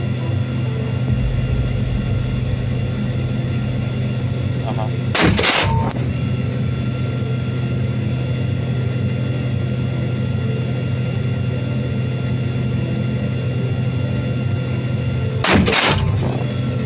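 Explosions from a Russian T-80 tank attack on a Ukrainian position, two sharp loud blasts several seconds apart over a constant droning rumble.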